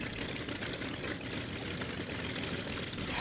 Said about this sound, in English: Pre-flight checks complete, she slips her moorings and the engines roar to life one by one.